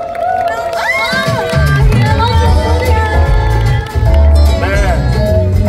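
Crowd cheering and clapping at a public FM radio broadcast event with a K-pop group on stage, loud and sustained with shouting children and a tonal music or voice layer running over it.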